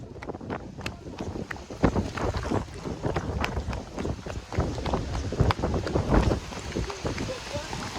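Heavy rain and strong wind lash down during a night storm, heard as loud gusty rushing and buffeting against the microphone with irregular sharp bursts. Voices can be heard faintly in the background.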